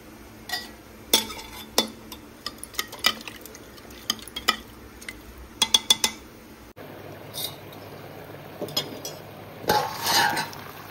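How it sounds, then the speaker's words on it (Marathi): Close scraping and clinking of a utensil stirring chicken leg pieces in Agri masala in a pan, quick irregular strokes, then a softer bubbling sizzle of food cooking. "व्यवस्थित मिक्स करूया"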